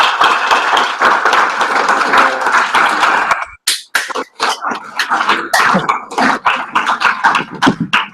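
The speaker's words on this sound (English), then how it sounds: "Let's give him a round of applause for Stephen Holland" A small high school group gives a round of applause for artist Stephen Holland, starting as dense clapping and then breaking into scattered, uneven individual claps and taps near the microphone.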